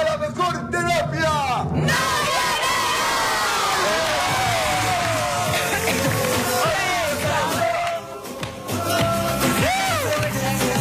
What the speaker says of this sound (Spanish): quiero dar el grito de guerra